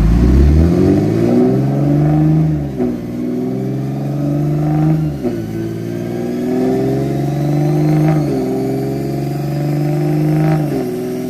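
A Toyota GR Supra engine revs hard on a dyno, climbing in repeated sweeps with brief lifts between pulls, loud and close with a deep droning tone and no voices.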